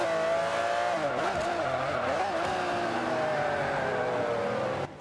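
A heavily tuned 1150 hp Audi R8 races in Forza 5, its engine roaring loud and steady with rising and falling revs through gear changes, tyres squealing briefly over the sustained drone.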